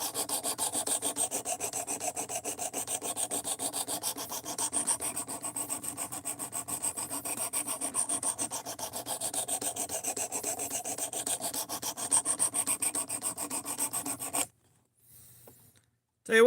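Steady, continuous rasping of a blade being sharpened, likely on a Ken Onion belt grinder, running evenly for about fourteen seconds before cutting to near silence.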